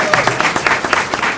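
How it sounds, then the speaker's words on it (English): Brief, loud applause from a council meeting audience honouring award recipients, a dense steady patter of clapping throughout. "So we got to a round of applause for all of our Mariners again."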